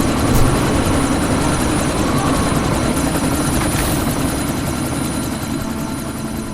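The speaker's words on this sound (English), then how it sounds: "you need to disable that chopper" A helicopter's rotor thrums steadily and loudly throughout a sandstorm scene in the video game Deus Ex: Mankind Divided, a constant dense drone with no voices.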